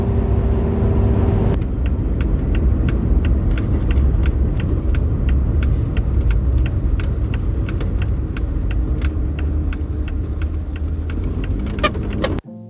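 An off-road vehicle climbs a dirt hill trail toward Kavanaugh Ridge, a loud, continuous low engine and tire rumble with constant rattling clicks and jolts from the rough ground.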